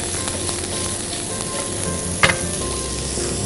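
Leek sizzles in a hot pan with a steady, loud frying hiss throughout and one brief clack of a utensil partway through. No one speaks.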